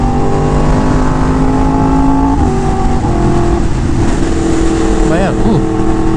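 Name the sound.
white Porsche car driving past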